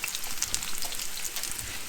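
Food sizzles and crackles in hot oil as holiday Christmas recipes are fried in batches, a steady bright spatter with scattered pops, fairly quiet and close, with no talking.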